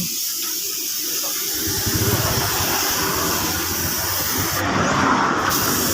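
Paint spraying on motorbike body panels during a low-cost respray of faded parts, a continuous loud hiss of the spray gun sustained throughout, with a brief lower rumble at the start.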